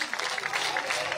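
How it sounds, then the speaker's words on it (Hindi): Village crowd clapping at a gathering with elders, a short burst of moderately quiet, fairly steady applause with a faint murmur underneath. "जोरदार तालियां एक बार।"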